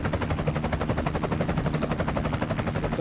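A helicopter in the Fortnite video game beats with a steady, loud, rapid rotor chop that carries unbroken throughout.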